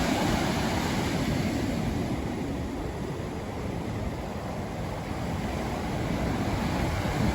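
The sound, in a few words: ocean waves crashing at Cabarete Beach after Hurricane Erin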